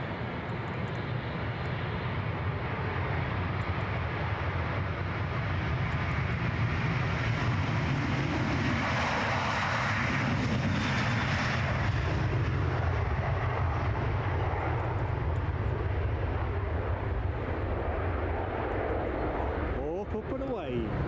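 Loganair ATR 42-500 turboprop climbing away from Edinburgh airport, a steady broadband engine and propeller roar that holds loud throughout, with a voice talking over it.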